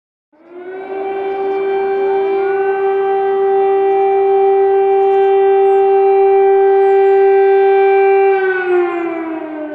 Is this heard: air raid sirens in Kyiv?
yes